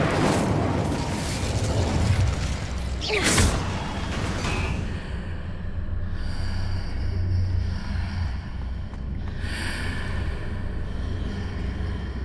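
Incendio fire spell cast in Hogwarts Legacy, a whooshing burst of flame with a rumbling roar early on, then fading into softer crackling and ambient game sound.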